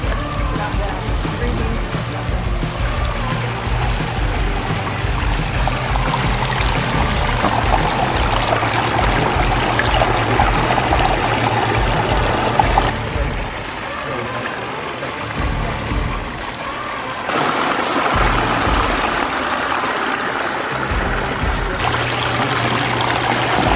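Water from a backyard pondless waterfall pours and splashes steadily over rocks, a constant broadband rush close by with brief drops in level partway through.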